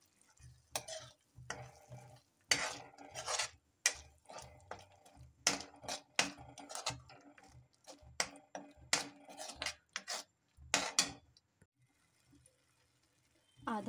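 Ground cumin and coriander powder being stirred in a pan with a spoon, a series of short scraping strokes with brief pauses between them, close and fairly quiet, with no voices.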